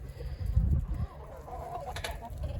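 Low clucking from a few chickens nearby, soft and intermittent, over a faint background hum.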